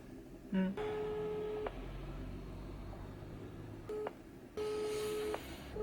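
A telephone line sounds a series of electronic tones after an answering machine greeting: short steady beeps in separate bursts with pauses between them, faint and clean over quiet background hiss.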